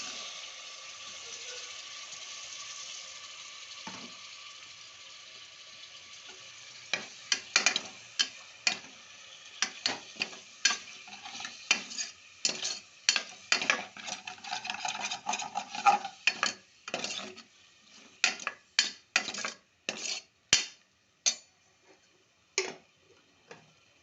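Chikkudu (broad beans) and carrot curry being stirred in a pan, with a spoon making a rapid, irregular run of close scraping clicks against the metal after a quieter opening stretch.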